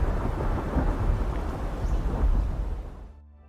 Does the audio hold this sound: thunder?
yes